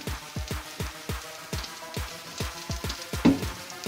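A vegetable masala omelette sizzles in a pan, a soft steady frying hiss broken by regular light spatters and taps, close and quiet, with no talking.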